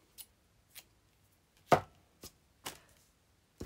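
Scissors snip through thick wool yarn for a yarn flower in a handful of sharp, separate cuts spread across a few seconds, close and clear against near silence.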